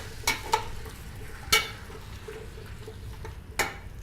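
Soup ingredients with salt and black pepper stirred in a pot, a few distinct spoon clinks and scrapes over a low, gentle sizzle, with no talking.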